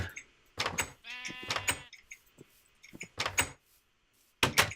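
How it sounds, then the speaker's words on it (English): Sheep bleating near a pen in the Minecraft video game, several short bleats repeating at irregular intervals, moderately loud against a quiet background with occasional soft game clicks. "let's go over here and check out the cave by the sheep pen"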